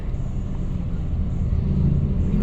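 A car moving along a road, heard from inside as a steady low engine and road rumble throughout.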